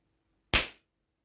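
A single sharp firework bang goes off at a Hogmanay show, loud and close, with a fast-decaying tail and silence on either side.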